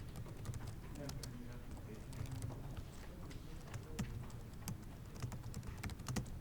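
Code is typed on a computer keyboard in a steady stream of soft, quick keystrokes with occasional sharper taps, close and continuous under a quiet background.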